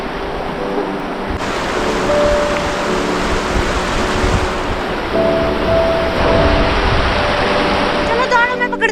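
River water rushing steadily at Nerwa in the Churdhar trek area of Himachal, a broad continuous roar close by, with voices and footsteps moving over it.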